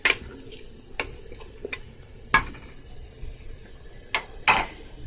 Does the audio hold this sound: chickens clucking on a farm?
no